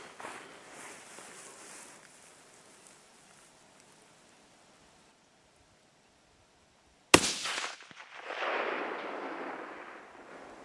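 A 22-250 rifle fires once while hunting outdoors: a single loud, sharp crack after several seconds of faint open-air quiet, followed by a rolling, fading rumble.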